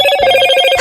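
A Motorola phone ringtone, loud and close, a bright electronic tone pattern with steady pulsing beats and no talk.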